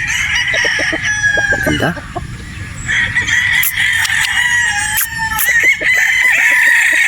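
A gray gamefowl rooster crows repeatedly at a game farm in Batangas, loud and close, with clucking between the calls and a voice briefly speaking.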